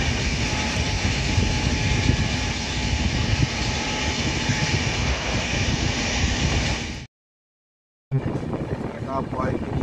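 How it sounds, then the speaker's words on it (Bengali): A steady, loud rumble of a train moving through the North Bengal countryside runs throughout, broken by a brief total dropout near the end before the noise resumes. "ট্রেন তখন ছুটে চলেছে উত্তরবঙ্গের মাঠ ঘাট চিরে"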